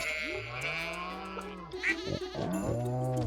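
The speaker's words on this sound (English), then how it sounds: "Hello, cows and sheeps and goats." Sheep and goats bleat on a farm in the video game Stardew Valley, several loud overlapping bleats following one another closely with no talk.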